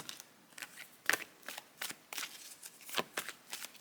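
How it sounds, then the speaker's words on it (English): Oracle cards are shuffled by hand in a quiet room, a series of soft, quick riffling and flicking bursts at an uneven rhythm, close and faint, with no voices. "let's get you some oracle cards"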